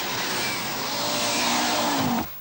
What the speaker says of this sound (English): Mikkola isn't wasting any time either, even though he's well aware that the Audi's greatest advantage over the others lies in the rough, loose surface tracks to come.